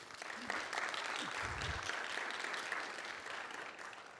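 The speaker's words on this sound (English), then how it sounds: "Let's give a round of applause to Prashant" Conference audience applauding a presenter, a dense wash of many hands clapping at steady volume throughout, heard a little distant in a large room.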